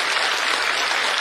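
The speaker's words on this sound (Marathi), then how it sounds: "त्याच्यासाठी एकदा टाळी वाजवा" An audience applauds at a live devotional kirtan gathering, producing a dense, loud, even wash of many hands clapping together with no break and no voices.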